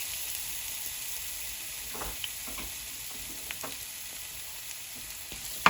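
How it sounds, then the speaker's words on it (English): Sliced onions sauteing in light olive oil in a pan give a soft, steady sizzle with a few faint clicks and a sharper knock at the end, no voices. "All right, so we're gonna add our sliced onions."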